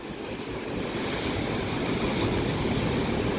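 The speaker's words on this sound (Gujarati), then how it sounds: "આ દરિયો." Sea waves wash onto the shore at Mahuva near a lighthouse, a steady broadband roar of surf mixed with wind, constant and moderately loud, with no voices.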